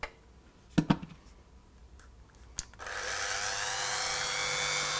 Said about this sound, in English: here's one of my, what should we call it, favourite tools, my Dremel